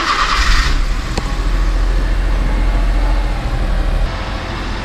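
A Honda Acty HH5 kei truck engine runs just after starting, a steady low idle rumble heard up close, with a brief louder burst at the start and no talking.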